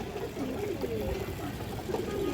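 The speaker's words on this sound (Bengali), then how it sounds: "হারিগেন কবুতর দর্শক এই দেখেন" A Hurricane pigeon gives a brief, soft throaty coo close by, low and murmuring.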